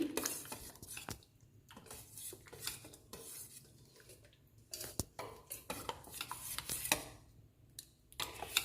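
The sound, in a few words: stirring tempering into green chilli tomato dal in a pot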